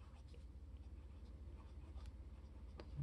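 A Lamy 2000 fountain pen writes on paper in short, faint scratching strokes close to the microphone, with no talk.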